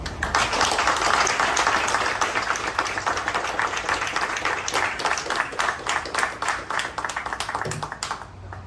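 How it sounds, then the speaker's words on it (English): Audience applause fills a military promotion ceremony for a newly promoted Army colonel, a dense, steady burst of clapping from a large crowd that holds for several seconds before thinning out at the end. "All right, give him a round of applause"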